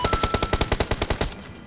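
Enemy automatic gunfire in a shooter video game, a rapid steady burst of about twelve sharp shots at an even rhythm, close and punchy, stopping abruptly before a brief quiet tail.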